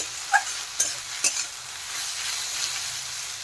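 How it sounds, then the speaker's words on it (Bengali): Taro stolons sautéing in a pan with salt and turmeric, a constant close sizzle broken by a few sharp scrapes and clacks of a stirring spoon early on, with no voices. "লবণ আর হলুদ দিয়ে এখন ভালোভাবে আমি কষিয়ে নেব লতি।"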